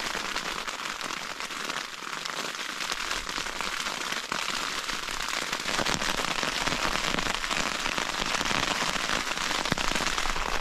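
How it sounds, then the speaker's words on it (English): Heavy rain and strong wind batter an emergency bothy shelter bag from inside, a loud, steady hiss of drumming drops and flapping fabric with no pauses. "It's insanely windy outside. It's pouring the rain."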